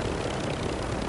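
Helicopter in a video game flying nearby, a steady broadband rotor and engine roar filling the whole short stretch at even loudness with no talk.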